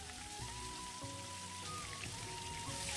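Pieces of katla fish coated in salt and turmeric fry in hot oil, giving a steady, dense crackling sizzle that holds throughout at an even level, with faint tonal hum underneath and no voices.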